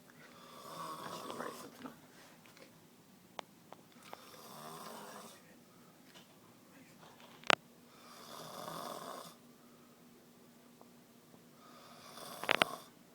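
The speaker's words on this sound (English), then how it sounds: "You snore." A person snores in slow, recurring rasping breaths, several drawn-out snores spaced across a quiet room, with a few sharp clicks and a brief murmured voice in between.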